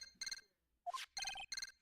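A transceiver rings in the Ace Attorney: Justice for All video game, giving short repeated bursts of electronic ringing with brief gaps between them, clear and alone.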